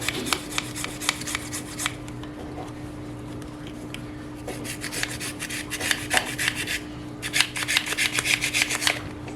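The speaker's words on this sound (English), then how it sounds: "I got some fresh garlic from our garden, and I'm gonna grate it with this little" Fresh garden garlic grated on a small handheld grater, close rasping scrapes in quick irregular bursts over a faint steady hum, growing denser and louder toward the end.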